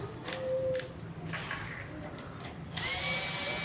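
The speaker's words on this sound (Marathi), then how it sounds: "स्क्रूड्रायव्हर पेक्षा ड्रिल मशीननी कनेक्शन एकदम परफेक्ट टॉर्क मिळून मजबूत टाईट होते आणि काम पण फास्ट होते" A power drill tightens screw connections in an electrical distribution board, with short whirring bursts followed by a longer, steady, close whine near the end.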